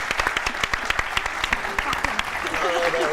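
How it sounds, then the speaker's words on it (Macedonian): An audience applauds for Sofija, a steady wash of clapping with scattered sharp claps sustained throughout, while a voice speaks over it. "Поздрав на аплауз за Софија."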